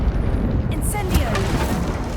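Incendio fire spell cast in the video game Hogwarts Legacy, a rumbling, whooshing blast of flame that hits sharply and then roars on steadily and loudly.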